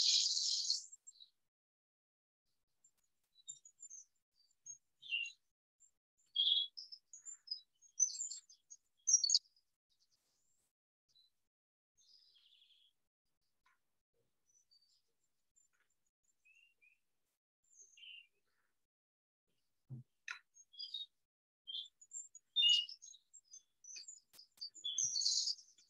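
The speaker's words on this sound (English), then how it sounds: "Become fully relaxed as you hear the sound of the birds." Birds chirp and tweet in scattered short bursts against near silence, some calls close and bright, others faint and distant, with quiet gaps between.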